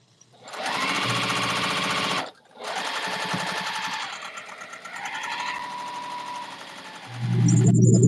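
Juki sewing machine running in a quilting session: a loud, fast whirring hum that starts, pauses briefly, then resumes and varies in speed, ending in a heavier rumble.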